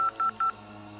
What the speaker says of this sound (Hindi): डर के मारे वो सुमित्रा को फोन मिलाने लगी।